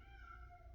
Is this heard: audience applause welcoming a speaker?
no